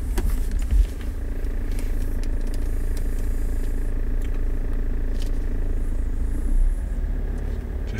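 A car engine runs at a low, steady rumble as the vehicle creeps forward slowly in stop-start traffic, the drone continuous and fairly close with no voices over it.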